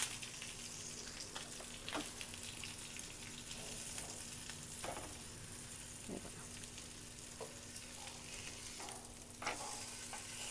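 Pomfret fish frying in a pan, a steady close sizzle with occasional pops and crackles running throughout, no talking.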